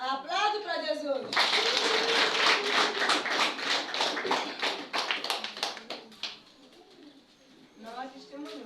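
A church congregation at a Wednesday service bursts into dense rhythmic applause lasting about five seconds. The clapping sits between stretches of a speaking voice before and after it.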